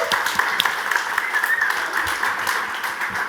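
Audience applause at the designFAO 2024 design conference, a steady wash of many hands clapping throughout, moderately loud and continuous with no voices over it.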